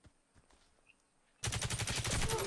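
Quiet stretch with faint taps, then sudden rapid-fire gunshots from a Daewoo K2 rifle in the video game Warface burst in loudly, a dense repeating volley.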